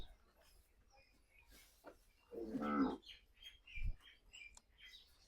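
A Gir cow lets out a single loud, deep moo close by, with birds chirping faintly around it before and after.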